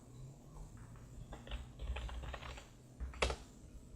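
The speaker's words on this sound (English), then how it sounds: "I'm hitting R on the keyboard." Typing on a computer keyboard, a quiet run of close key taps with a sharper clack near the end, with no talk.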